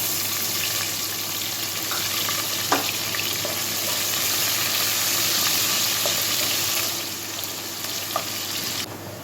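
Chopped onion frying in a little oil in a pan for a fish curry, a continuous broad sizzle and hiss with a few small clicks of a utensil, no voices.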